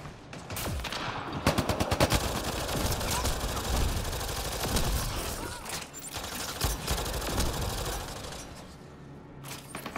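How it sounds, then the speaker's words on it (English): A plasma assault rifle fires in a video game, cutting down enemies in a bronze-difficulty mission. Dense, rapid volleys of loud shots run almost continuously over ten seconds with only brief lulls. "this plasma shooting assault rifle is—it's taking them out pretty quick on bronze."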